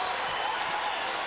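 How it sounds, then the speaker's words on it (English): The arena crowd at the 1996 NBA Finals Game 4, Chicago Bulls at the Seattle SuperSonics, roars in a continuous wash of cheering and clapping that fills the hall without a break. "And the crowd gets right to it."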